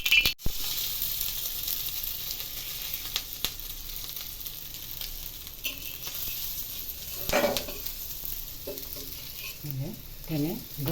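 Oil heats and sizzles on a tava (griddle) over a gas flame, a steady crackling fry with faint scraping and stirring clicks, close and fairly quiet, with no talking.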